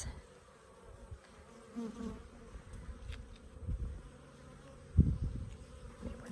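Honey bees at a laying-worker hive drone in a dense, continuous buzz, with louder passes as individual bees fly close, while someone briefly speaks.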